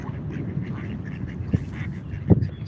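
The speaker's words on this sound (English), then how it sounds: "we've got some little ducks over here" Small ducks quack at a street protest in Washington DC, giving a few short, fairly close calls over a low murmur of background noise.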